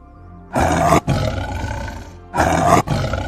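A lion roars loudly and close by in a Hindi animated moral story, with two long, full-bodied roars separated by a short pause.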